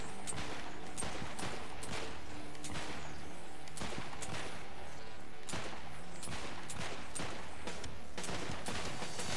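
Gunfire from the video game Saints Row 4: repeated sharp shots at an uneven, rapid pace over dense game noise, loud and close throughout.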